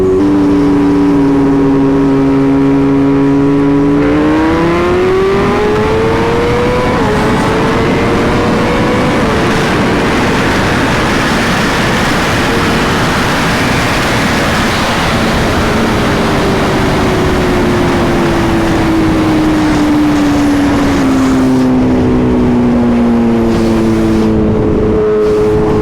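A BMW M1000RR and a Ducati V4S sport motorcycles racing on the road, engines screaming loudly as they accelerate hard, pitch climbing through gear changes then easing off, with heavy wind rush throughout.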